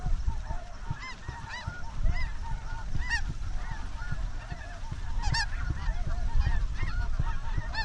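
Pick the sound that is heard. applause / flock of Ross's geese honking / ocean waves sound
flock of Ross's geese honking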